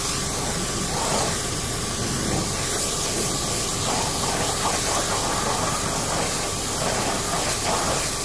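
A high-pressure spray hoses down a sleeper bus, a loud, steady broadband hiss of water jet and splashing that runs unbroken and close throughout.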